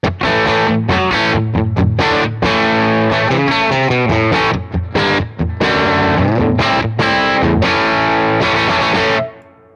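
Crunchy electric guitar riffing through a Fender Blues Jr. amp into a 2x12 cabinet, chords and quick note runs, full and loud, ending with a sustained ring that cuts off.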